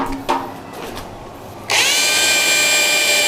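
Power drill fitted with a whisk attachment churning meatball dough, starting after a few thuds and handling noises, then running as a loud, steady, high whine close by.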